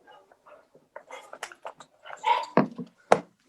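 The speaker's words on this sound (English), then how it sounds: "I have to go quiet the dog for a moment." A dog whimpers and gives short yips and barks in quick bursts, close and moderately loud against a quiet background, over about three seconds.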